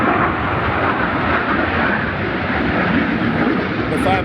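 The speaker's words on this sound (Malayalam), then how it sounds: "അടുത്ത ഫൈറ്റർ ജെറ്റ് ആണ്." A fighter jet passes over Tattershall Lakes Resort with a loud, unbroken, rushing roar that fills the whole stretch evenly and stays close and powerful throughout.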